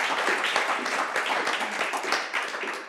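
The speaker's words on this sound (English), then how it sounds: "Let's give them a really big round of applause." Audience at an interiors talk session breaks into a big round of applause, dense steady clapping filling the room for a few seconds, with no speech.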